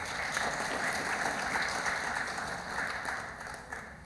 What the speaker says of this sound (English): Can we give the Honorable Minister another round of applause